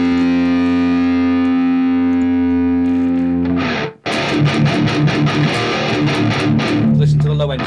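Heavily distorted heavy metal electric guitar run through an effects unit, first a loud sustained ringing chord, then after a brief gap a dense, aggressive chugging riff, close and alone.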